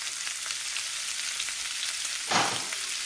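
Dal mash fries in a pan with a continuous close sizzle, and one short, louder scrape of stirring comes near the end.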